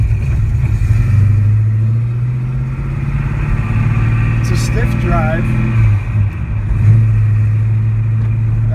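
A 1966 Ford Mustang restomod with a 347 small-block V8, TKO 600 five-speed and MagnaFlow exhaust rumbles steadily while driving, its deep loud exhaust drone rising and settling with shifts, under someone talking from inside the car.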